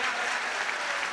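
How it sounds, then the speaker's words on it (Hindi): Audience applause at a mushaira poetry gathering in Maharashtra, a dense, steady wash of clapping from a large crowd, loud and continuous throughout with no pauses. "एक बार जोरदार ताली बजाइए आप"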